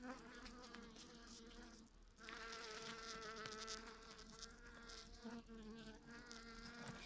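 Dense, steady buzzing of many bees around a hive in October, close by, a continuous droning swarm with shifting pitch and no pauses.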